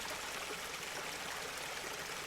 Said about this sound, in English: He gently scoops the water from the river